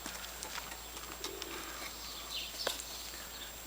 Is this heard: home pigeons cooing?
yes